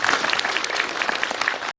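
A theater audience claps after a film festival guest talk in Busan for the film Monster, a full, steady wash of many hands applauding that runs evenly before cutting off abruptly.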